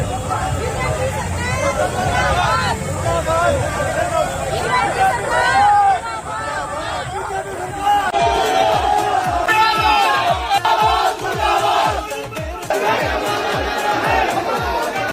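A large crowd of party workers shouting slogans while pushing into a government secretariat, a dense mass of raised voices with rhythmic chanting bursts, loud and close throughout.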